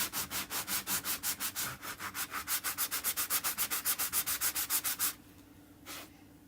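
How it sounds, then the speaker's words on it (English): Steady rhythmic hand sanding of wooden edges, about thirty quick back-and-forth rasps close up, then a pause and one final stroke. "I'm going to do a little sanding on these edges"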